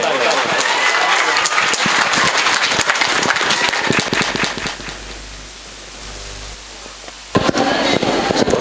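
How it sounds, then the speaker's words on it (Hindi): An audience at the Urdu Habba Kainaat e Adab event in Bangalore bursts into loud, dense applause as a guest heads to the stage. The clapping thins and fades midway, then surges back sharply near the end. "जोरदार तालियां होनी चाहिए जब तक कि वो स्टेज पर ना आ जाए"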